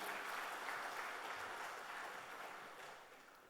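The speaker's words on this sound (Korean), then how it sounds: "박수 크게 하십시다." A church congregation claps steadily in a broad, even wash of applause that gradually fades toward the end.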